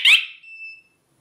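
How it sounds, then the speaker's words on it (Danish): Two short electronic beeps from a HomeAlarm siren sound as confirmation after the alarm is disarmed on a wireless keypad. The first beep is harsh and buzzy, and the second is a cleaner, steady tone, both close and alone. "to bip fra sirenen, og status lyser konstant grønt"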